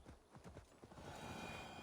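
A horse's hooves clip-clop in Assassin's Creed Valhalla, a few quick close strikes at the start that give way to a steady rushing background noise, faint overall and without speech.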